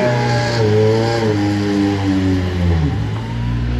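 An LMP2 prototype race car on a circuit, its loud engine note rising and falling through gear changes as it passes close by, harmonics sweeping down as it moves away, with no voices.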